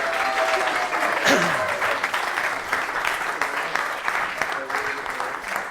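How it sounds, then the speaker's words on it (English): A speedway crowd applauds continuously as the team manager is introduced, a dense, moderately distant wash of clapping with a voice briefly heard over it. "Ladies and gentlemen, put your hands together."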